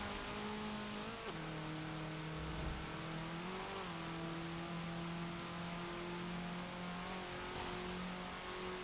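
A 1989 Porsche 944 Turbo circuit racing at Maple Valley in Forza 7 holds a loud sustained engine drone, with a clear pitch dip as it shifts or lifts early on before settling into a steady high-revving tone.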